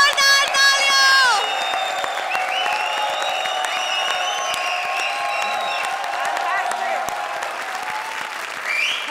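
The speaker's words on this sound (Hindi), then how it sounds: "जोरदार तालियां!" A studio audience at a comedy show breaks into loud, thunderous applause and cheering with whoops, a dense continuous roar of clapping throughout, with shouting voices on top.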